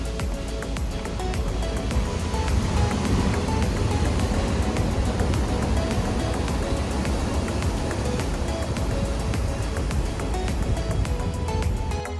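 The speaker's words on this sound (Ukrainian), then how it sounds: "спробували тільки що зайти, але дуже велика хвиля" Loud, continuous roar of large surf waves crashing steadily on a New Zealand coast, dense broadband wash throughout and no voices.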